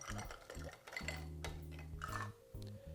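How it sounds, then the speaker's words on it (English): Dark spiced rum cocktail stirred with ice, a spoon clinking and rattling against ice and glass in short close bursts over a low background tone. "we're gonna stir this just to combine the ingredients and slightly chill it"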